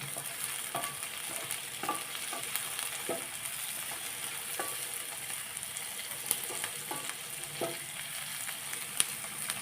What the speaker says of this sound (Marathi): कांद्याचा पांढरा कलर बदलेपर्यंत आपण असं परतून घ्यायचं